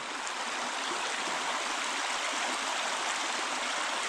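A mountain river rushes steadily in a continuous, full hiss like a fast stream or small waterfall close by, with no voices.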